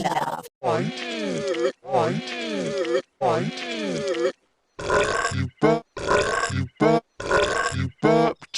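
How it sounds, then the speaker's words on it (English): Cartoon-style burp and groan effects, processed and reversed, come in a rapid run of strong bursts with short gaps, first low groaning tones and then choppier belching sounds, loud and close with no talk. "You burped."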